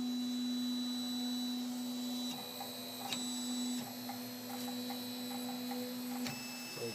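A 3D printer printing ABS runs with a steady electrical hum and whir, punctuated by occasional soft clicks and shifts in pitch as it moves.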